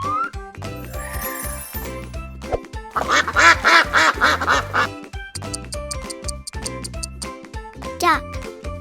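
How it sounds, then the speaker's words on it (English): Cartoon duck quacks in a children's farm-animal learning song, a run of bright repeated quacks in the middle over bouncy background music with a jingle. "Duck."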